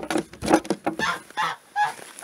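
A gander honks several times in quick, agitated bursts close by, harsh and nasal, with short pauses between calls.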